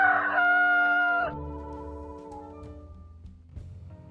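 A rooster lets out one loud, close crow that breaks off sharply, followed by softer clucking and faint rustling from chickens kept nearby.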